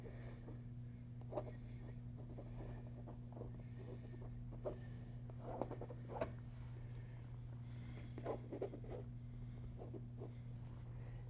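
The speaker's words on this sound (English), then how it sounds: "I can go in and enhance these edges with a little bit of pencil work" Pencil scratching into the layered surface of an abstract painting in an art studio, faint sporadic scrapes and light strokes over a quiet steady hum.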